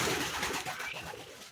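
Pigeons on a pigeon farm give a brief, faint coo against a soft background hum.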